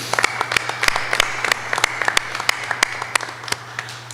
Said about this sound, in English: a big thanks and a round of applause to the directors who've just rolled off the board